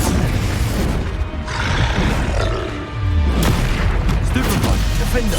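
Spell blasts and explosive booms in the Hogwarts Legacy video game, heavy and continuous with roaring crashes across the whole stretch, layered with other game combat noise.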